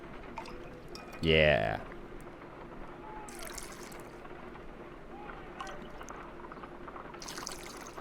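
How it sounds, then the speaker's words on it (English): Liquid poured from a bottle into a test tube during a Sherlock Holmes detective game, a short bright gurgling pour of about half a second, alongside a brief spoken word and quiet background ambience. "Let us pour liquid from the bottle into a test tube to perform an analysis"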